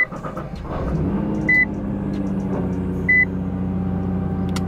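A Nissan GT-R Nismo idles on its stock exhaust, a steady low rumble with a smooth, quiet drone, while a few short electronic beeps chime over it.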